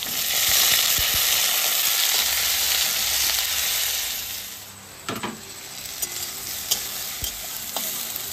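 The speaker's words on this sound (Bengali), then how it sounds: "মশলাটা ভাজা হয়ে গেছে, এবার আমি তুলে নেব।" Loud, steady sizzling of onion, ginger, green chilli, garlic and tomato frying in hot oil, with occasional scrapes and clinks of a spoon stirring through the pan.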